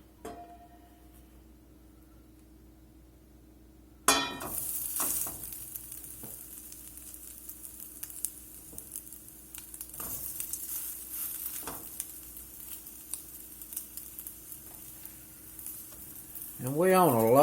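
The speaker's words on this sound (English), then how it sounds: "while those crab cakes are frying up there on the first side" Crab cakes fry in avocado oil in a skillet over low to medium heat, a dense crackling sizzle with scattered pops that starts abruptly after a quiet moment and continues steadily.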